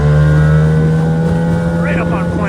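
An old Evinrude outboard motor drives a boat across the water at speed, its steady loud drone holding a constant pitch, with wind buffeting the microphone and brief whining tones near the end.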